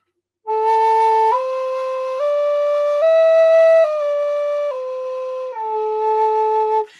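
Native American flute in A sounding a sequence of clean, sustained pentatonic notes stepping up and back down, breathy and clear, played alone.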